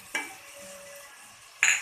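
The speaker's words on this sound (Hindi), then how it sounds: "इसको भी अच्छे से प्याज के साथ ही भून लेंगे" Onions frying with ginger-garlic paste and spices for a potato kofta curry give a soft, low sizzle, with a spoon clanking sharply against the pan at the start and again at the end.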